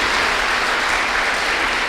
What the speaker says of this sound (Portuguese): Vamos aplaudir o Senhor, gente.